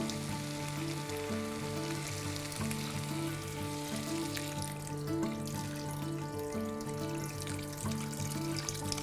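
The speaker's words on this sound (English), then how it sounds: "Now to this I'm going to add some water." Sizzling rice and ghee in a pan as water is poured in for chicken pulao, a continuous close frying hiss with a brighter watery rush in the latter half, no talk.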